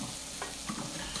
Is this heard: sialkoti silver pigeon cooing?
no